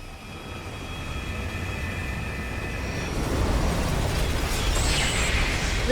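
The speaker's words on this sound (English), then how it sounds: "Undying flame bomb! Fire!" An undying flame bomb explodes in the video game The Hundred Line, a loud, sustained rumbling blast that swells partway through and rolls on amid battlefield noise, with a bright crackling burst near the end.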